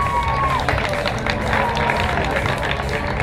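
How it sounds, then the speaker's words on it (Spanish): Sustained applause from a pageant audience at a Miss Perú Earth 2015 event in Montalvo, a dense steady wash of many hands clapping throughout, with crowd noise and a voice speaking over it. "Aplausos para Pamela Sánchez, otra representante de Amazonas."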